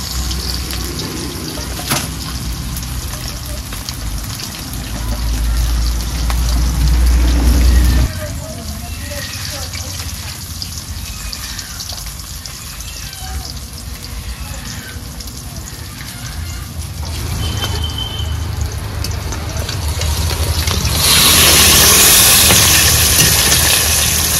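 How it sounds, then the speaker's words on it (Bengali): Shol fish frying in a pan, a continuous loud sizzle and hiss with a low rumble, growing brighter and stronger toward the end, with people talking over it. "মাছগুলো ভাজা হতে লাগুক"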